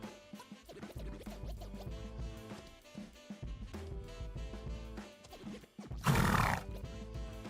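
Horses in the online game Mortal Online, snorting and scraping with hoof clops amid background music, then a loud close neigh or whinny near the end.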